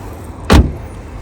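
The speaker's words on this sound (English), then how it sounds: "But the door opens, everything." A frost- and ice-covered car door is opened once in the cold: a single short, loud thunk of the latch and door, close by against quiet outdoor air.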